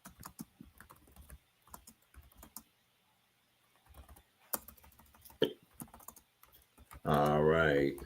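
Computer keyboard typing comes in scattered bursts of quick clicks between stretches of someone talking, and a loud blast of other sound closes it out.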